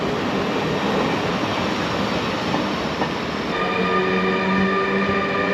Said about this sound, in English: This is our penultimate train. This is us leaving Spiez.